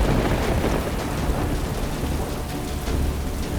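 Heavy rain pours steadily in a TV drama storm scene, with deep thunder rumbling throughout, loud and continuous with no voices.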